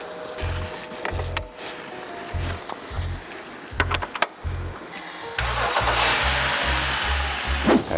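BMW F10 528i with a dead battery, jump-started: several short cranking bursts with clicks and pauses, then the engine catches and settles into a steady, louder idle.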